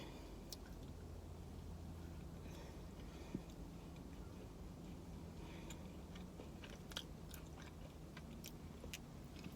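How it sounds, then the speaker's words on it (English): Someone bites into a Crumbl cookie topped with a Chips Ahoy cookie, producing faint, close crunches and soft chewing with scattered clicks over a low background hum. "now I'm going to take a bite with the Chips Ahoy cookie on top"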